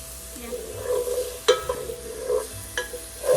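Garlic frying in a pan for rellenong lumpia, with a soft steady sizzle under quiet scraping and clinking stir strokes at an uneven rhythm, close by.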